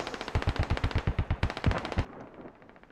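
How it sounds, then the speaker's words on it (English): Rapid automatic machine-gun fire in the video game Squad, two close bursts of evenly spaced loud shots, then fading echo. "I hit it a couple times with the MG"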